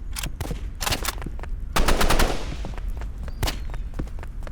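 Rapid bursts of automatic gunfire in the video game Rivals crackle in quick succession, loud and close, with a denser sustained volley in the middle.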